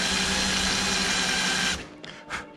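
Power drill opening up a hole with a 5/32 bit from the front of a carbon fiber panel on a RANS S-21 aircraft: a steady whining buzz for under two seconds, then stops, followed by a couple of short bursts.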